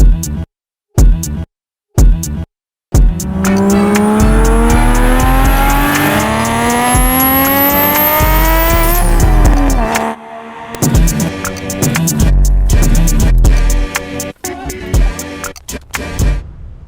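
A 1975 Datsun 280Z restomod revs hard and accelerates, its engine note climbing steadily in pitch through the gears before easing off, loud and close, with brief cuts and a few smaller revs afterward.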